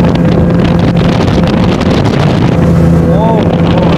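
Loud roaring motor of a boat crossing sea waves from Nuniarchhara ghat, Cox's Bazar, to Moheshkhali, with heavy wind buffeting and splashing water; a person speaks briefly over the din.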